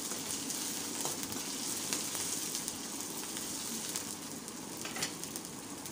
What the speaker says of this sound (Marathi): पॅनमध्ये थोडं तेल गरम झालेलं आहे, थोडंसं जिरं टाकलेलं आहे, मोहरी टाकलेली आहे, कढीपत्ता, ठेचलेलं लसूण आणि 2-3 हिरव्या मिरच्या टाकलेल्या आहेत। छान परतून घ्यायचं तेलामध्ये।